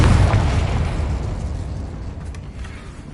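Confringo spell explosion in Hogwarts Legacy, a single loud boom at the start that rolls off into a long, decaying rumble, heard alone without talk.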